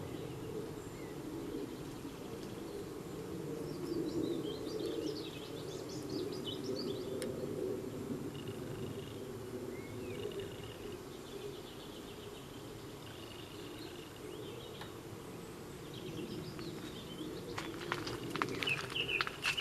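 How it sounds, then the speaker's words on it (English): Birds sing and chirp in a sunny afternoon garden of nasturtium, fennel and aquilegia, with a dove cooing softly amid a steady, moderately faint chorus of calls. "the bird song is quieting down a little bit because of course they're all just basking in the afternoon heat"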